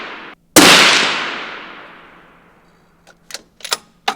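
A loud rifle shot cracks at a target range and its report rolls away over a couple of seconds. Several quicker clacks follow as the rifle is reloaded.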